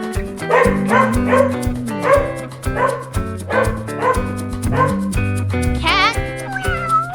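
Several short, sharp dog barks and yips come in a rhythmic series over a cheerful musical backing, ending with a brief whining tone.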